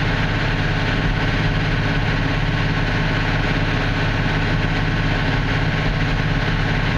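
A CAT D6K2 dozer engine running at high RPM, a steady, loud, close diesel drone with a strong low rumble that holds unchanged throughout, with no talk.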